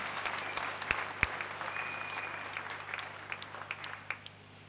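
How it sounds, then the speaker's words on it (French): A church congregation claps in a brisk, scattered patter that slowly thins out, with a few sharp individual claps standing out and no voices over it. "Acclamons Jésus-Christ."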